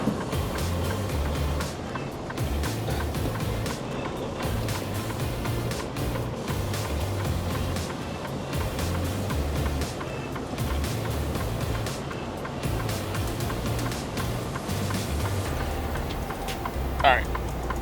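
A semi truck's diesel engine rumbles steadily at close range throughout while the rig backs up, with a brief higher squeal near the end.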